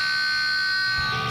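After muting, the part of a guitar string behind the bridge rings on as a thin, high, steady metallic tone, sustained and close, with a faint touch of noise near the end and no talk.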